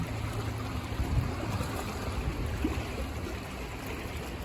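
Flood water runs through a city street after heavy rains, a faint, steady rushing wash with a distant, continuous character and no voices.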